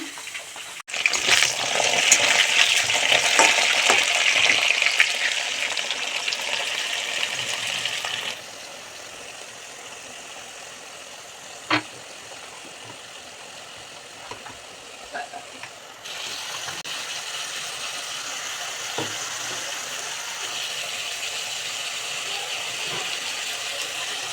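Potatoes fry in a pan for a posto lunch. A loud, dense sizzle fills the first eight seconds, then settles into a quieter, steady crackle with a few scattered clinks.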